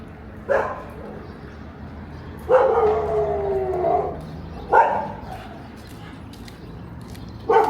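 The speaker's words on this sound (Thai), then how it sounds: "เสียงหมา บ้านนี้หมาเห่าดิ" In a village at night, a dog barks and howls in drawn-out bursts spaced a few seconds apart, fairly close and loud, with a steady background hum between them.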